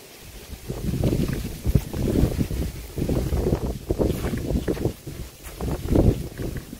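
Gusty outdoor wind buffets the area during setup of a large cabin tent, arriving as uneven low rumbling bursts and flapping pulses close to the microphone, with no voices.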